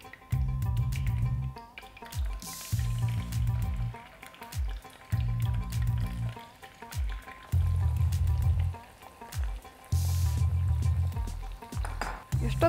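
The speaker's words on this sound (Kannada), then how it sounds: "ಚಿನ್ನದ ಬಣ್ಣ ಬರೋ ತನಕ ಫ್ರೈ ಮಾಡಬೇಕು" Cauliflower pieces deep frying in hot oil for gobi manchurian, a steady close sizzle broken into bursts by repeated stirring and splashing, with no talk.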